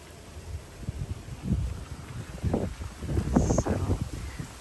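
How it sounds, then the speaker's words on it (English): Outdoors in a garden, strong wind strikes the microphone in uneven low thumping gusts that swell and fade over several seconds, moderately loud, with no speech. "Oof, wind. Super windy."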